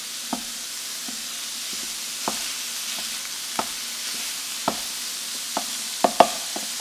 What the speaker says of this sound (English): saute the beef and I'm just gonna break it up into chunks here